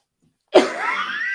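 A single harsh cough bursts out after a short silence, then trails off into a rough breathy exhale.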